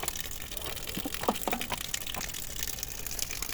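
Water gushes steadily from a small tap, a continuous splashing flow heard up close with no voices.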